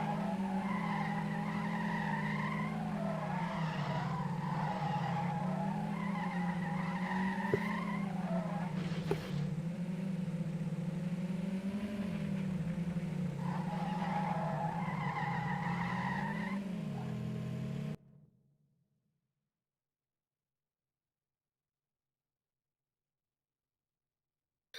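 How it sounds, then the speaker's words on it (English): Cars drifting in an online racing game match, a sustained engine drone with long tire squeals rising and falling over about eighteen seconds, then sudden silence. "Looks like Sander and Nick are practicing their drift tactics."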